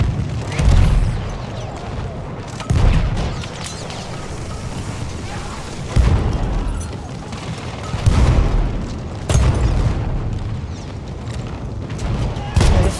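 Repeated heavy booms of grenade blasts in Battlefield 1 on the Argonne Forest map, several loud low thuds every few seconds over continuous battle rumble, with voices talking faintly underneath.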